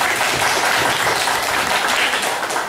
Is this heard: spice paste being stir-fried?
no